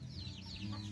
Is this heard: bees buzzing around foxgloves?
no